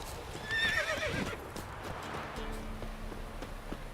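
A horse in The Witcher 3 lets out a loud, close whinny, followed by the steady clip-clop of hooves over a low ambient background.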